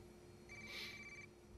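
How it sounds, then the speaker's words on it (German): A single short electronic telephone ring in the video game Watch Dogs, a bright trilling tone rising briefly over a quiet low hum. "Telefon!"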